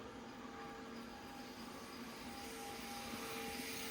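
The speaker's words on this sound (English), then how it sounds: "Before I fill the air tank, just want to regulate it down so it doesn't take all the air out the air tanks in the tractor." Compressed air hissing steadily into an air tank from a tractor's air supply through a regulator, a continuous broadband rush with faint tonal whine, close and unchanging throughout.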